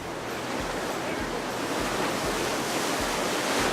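Whitewater on a rapid of the Ottawa River crashes against a raft, a loud, continuous roar of surging water and wind buffeting the microphone throughout.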